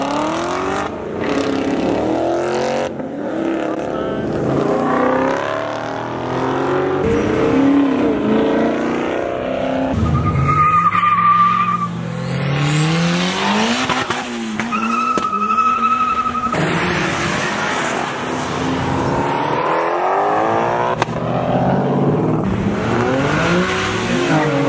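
A Ford Mustang skids and revs at an outdoor cars and coffee meet, with engine roar rising and falling, tire squeal and sweeping passes heard up close and loud, and no talking.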